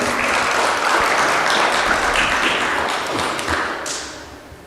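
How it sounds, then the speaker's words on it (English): An audience applauds at Montego Bay Convention Center during the National Tourism Debate 2022, a dense wash of clapping that holds steady and then gradually fades out. "Please give them a round of applause."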